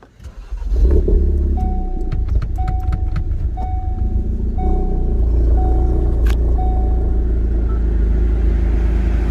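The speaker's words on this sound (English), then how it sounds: "I'll start the car now" A 2016 Ford Focus RS engine cranks and catches, then settles into a loud, steady idle with a deep rumble. Several soft electronic chimes from the cabin repeat over the running engine.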